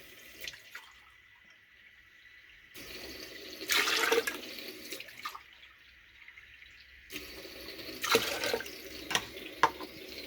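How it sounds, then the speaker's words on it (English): Water poured in bursts into a grinder jar with medium pieces of cut coconut, two loud splashing pours of a few seconds each separated by quiet, with faint drips between. "now 3 cups of water will go for grinding"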